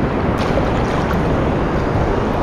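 Rough, heavy sea waves wash and roar continuously at a beach in Phuket, Thailand, during stormy weather, loud and close with dense broadband surf noise and some wind buffeting.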